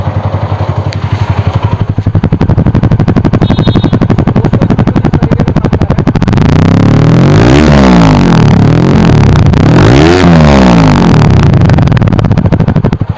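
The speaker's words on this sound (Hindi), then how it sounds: "ये हमारी गाड़ी इजीली स्टार्ट हो चुकी है दोस्तों 1 सेल्फ के अंदर" A TVS RTR 200 4V motorcycle engine idles after a rebuild with a rapid, loud, even exhaust thump, then revs sharply twice with rising and falling sweeps before dropping back.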